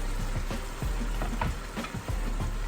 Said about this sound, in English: nice white wine and we'll let it simmer.